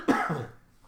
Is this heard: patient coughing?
yes